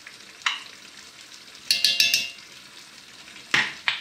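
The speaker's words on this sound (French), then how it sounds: "On mélange bien." Beef bourguignon being stirred in a pan as tomato paste is worked in: soft background sizzle with a few sharp utensil scrapes and clinks against the pan, clustered in short bursts.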